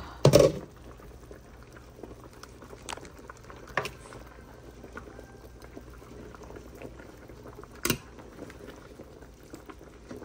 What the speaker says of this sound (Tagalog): nagbukal na ang akong tinula